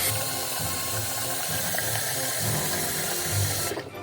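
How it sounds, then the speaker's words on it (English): Cold water running from a kitchen tap into a pan for washing rice, a loud, steady broadband splashing stream close by that tapers off at the end, with no talking. "we've got our pan, and then we've got a tap. Cold water, remember, cold water."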